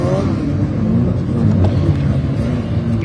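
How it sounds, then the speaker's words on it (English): Prix 66 classic and historic touring cars heading out onto the track at Donington Park, a loud, dense rumble of several engines blending together, close and continuous. "the cars are heading out track"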